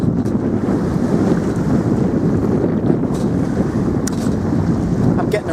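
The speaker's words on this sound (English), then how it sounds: "I don't know if you can hear me very well because of the wind" Strong wind roars steadily across the microphone aboard a sailing boat at sea, a loud, constant buffeting rush with occasional gusts and faint water noise underneath.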